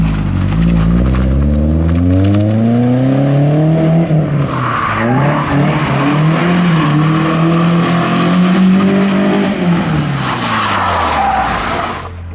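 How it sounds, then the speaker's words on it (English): A car drifts inside a shop, its engine revving up and down in long sweeping pulls over loud continuous tire squeal, close and sustained throughout. "Dave learns how to drift."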